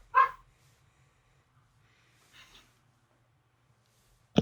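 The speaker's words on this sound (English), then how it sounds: "My dog's outside barking, making a bunch of noise." A dog barks outside at a distance, a single short bark at the start, a fainter one midway and another at the end, with near silence between.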